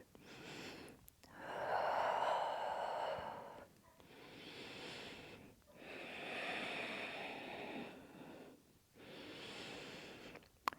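Slow, deep breaths held in a yoga child's pose, head resting on a mat: three long, soft airy inhales and exhales with short pauses between, close and fairly quiet, with no talking.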